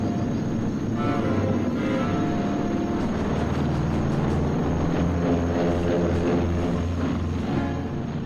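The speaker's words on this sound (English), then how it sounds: "Each C-47 towed 2 gliders." Droning engine roar of a C-47 aircraft towing two gliders on takeoff, a loud, sustained rumble with throbbing propeller tones and no talk.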